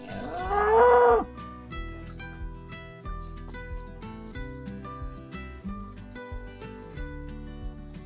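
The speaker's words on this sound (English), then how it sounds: "an angry cow just out of shot" An angry cow lets out one loud, drawn-out moo close by in the Scottish countryside, followed by quieter rustling and background sounds.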